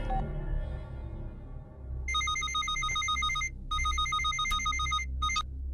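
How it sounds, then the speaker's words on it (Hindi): An old-style telephone bell rings unanswered in two loud, shrill bursts with a short gap between them, over a low background murmur. "सर, घंटी बज रही है, कोई फोन नहीं उठा रहा है।"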